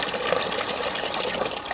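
Water drains through the open valve of a GOLDROP 5-gallon bucket system into a basket, a steady close rushing gush that continues without a break and without talk.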